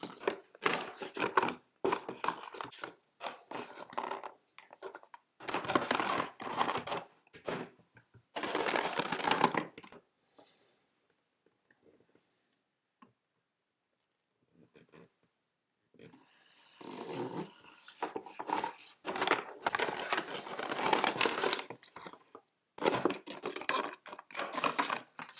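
Product packaging being unboxed and handled, with bursts of crinkling, rustling and scraping cardboard and plastic, close and fairly loud, broken by a quiet pause midway and no talking.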